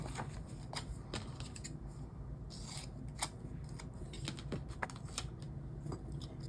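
Scissors snip through a paper planner sticker with a series of small crisp cuts and rustles, close and quiet over faint background hiss.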